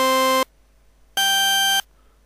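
Aggressive synthesizer tone with sawtooth waves on all three oscillators, played in an acid-style patch: two sustained buzzy notes, each about half a second, separated by a short silence, loud and bright with no voices.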